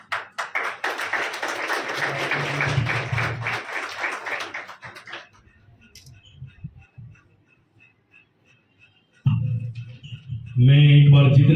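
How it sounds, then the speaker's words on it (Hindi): A crowd at a Mother's Day event at a girls' senior secondary school claps loudly for about five seconds, the applause fading into quiet room noise before a voice starts speaking near the end. "एक बार जोरदार तालियों के"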